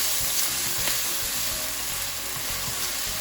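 Chilli spices for a restaurant-style prawns chilli dry starter sizzle loudly in a pan after water is added, a steady close frying hiss with soft stirring scrapes underneath.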